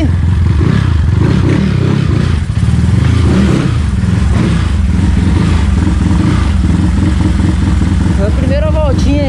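Light prototype vehicle on its first lap with the engine revving loudly and continuously, tires sliding as it accelerates, steady mechanical roar with clatter throughout and people talking over it.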